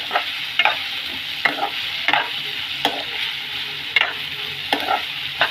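Onions and drumsticks fry in hot oil in a pan with a continuous loud sizzle, broken by periodic scraping stirs of a spoon about once a second, close up and without speech.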